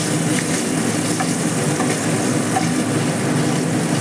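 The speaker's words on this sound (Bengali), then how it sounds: "এবার সেম এই তেলের মধ্যে দিয়ে দেবো 2 কাঁচা লঙ্কা আর সামান্য কিছু কালো জিরে দিয়ে এবার এটাকে ভালো করে নাড়াবো।" Green chillies and black cumin seeds stirred in hot frying oil, a loud continuous sizzle with a dense, even hiss and no voices.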